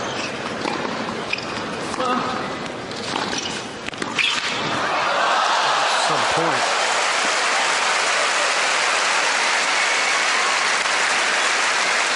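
Tennis crowd at the US Open applauding Baghdatis in his second-round match against Agassi, a broad sustained wash of clapping that swells after a few seconds and continues steadily, with commentary voices underneath early on.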